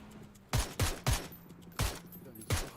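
Repeated bursts of gunfire in a game, five sharp volleys roughly half a second apart over a low electronic hum, with no voices.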